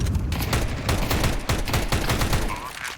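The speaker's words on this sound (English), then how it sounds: "He's shooting that Tech 9 Rapids mode." Rapid bursts of Tec-9 pistol fire in Counter-Strike crackle in a fast, uneven rhythm, shot after shot, loud and close, with faint voices underneath.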